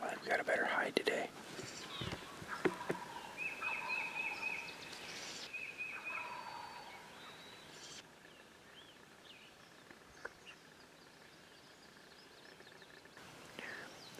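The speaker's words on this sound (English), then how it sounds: "This gobbler that's in the timber, just over there somewhere, won't stop gobbling." A wild turkey gobbler sounding from the timber at dawn during an Iowa spring hunt, a few distant gobbles and bird calls amid soft rustling and whispered talk close by.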